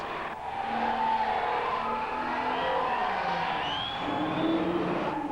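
Powerful cars at illegal street drag races in Dandenong's outer eastern suburbs, 1992, roar continuously with revving engines and a rising tire squeal, loud and close, with faint crowd noise in the background.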